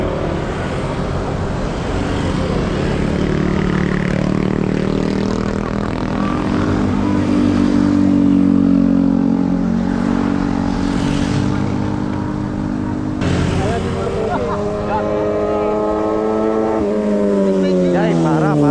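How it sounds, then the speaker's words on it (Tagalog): A big-bike motorcycle passes by on a road during a highway patrol checkpoint, its engine drone swelling loud and close before a rising whine as it goes by, with speech faintly underneath. "Big bike."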